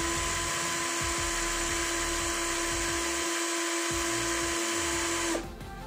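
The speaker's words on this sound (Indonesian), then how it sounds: "Berikutnya uji RPM di percepatan nomor 1 terlebih dahulu." A Sunc S12 12V cordless drill runs steadily in first gear with no load, giving a continuous motor whine that cuts off abruptly near the end.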